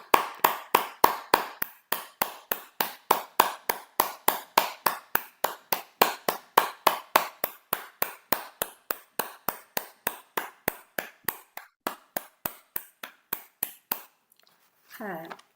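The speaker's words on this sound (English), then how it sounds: "Let us show our appreciation for their efforts with a round of applause." Evenly paced clapping from an audience at a live Tamil-language online event, about three claps per second, steady and fairly close for fourteen seconds before stopping, with a brief faint sound at the very end.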